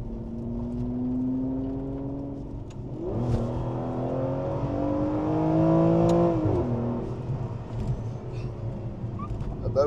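A new car's engine revs up and down close by, loud and rising in pitch, then settling, with a few swelling pushes over a steady mechanical drone.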